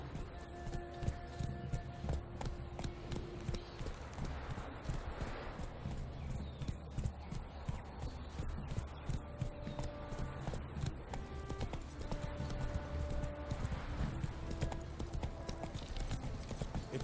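The horse Roach clip-clops along in a video game, its hooves beating out a steady, continuous walking rhythm over a dense, noisy backdrop for the whole stretch.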